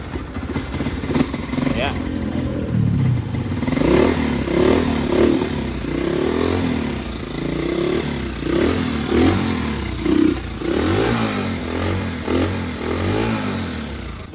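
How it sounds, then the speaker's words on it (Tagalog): Honda TMX 155 motorcycle engine with a newly replaced CDI socket, started up close and idling unevenly with rhythmic chugging pulses and light mechanical clatter, a brief voice speaking over it near the start. "So umaandar na yung motor ni boss mga katropa"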